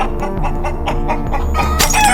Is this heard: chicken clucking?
yes